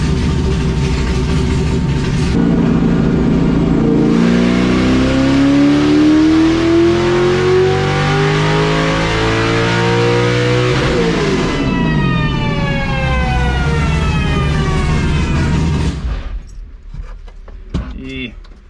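A high-compression naturally aspirated 402 cubic inch engine on a dyno pulls up to 7400 RPM, a loud sustained roar rising steadily in pitch before cutting off abruptly and winding down with faint clatter.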